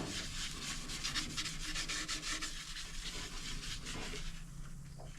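Sanding sealer is rubbed by hand onto a wooden lidded box, a steady close scratchy rubbing with rhythmic strokes and no voices.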